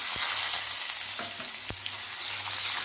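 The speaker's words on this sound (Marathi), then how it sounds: "आणि बारीक चिरलेला कांदा लगेच टाकूया" Chopped onion dropped into hot oil with cumin, mustard seeds and curry leaves in a kadhai, giving a steady sizzle with a few sharp crackles and pops, close and alone.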